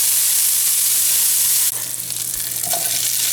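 Bacon sizzling in a hot skillet alongside bite-size pieces of Polish sausage and onion, a steady close frying hiss that grows busier partway through, with soft stirring scrapes and no talk.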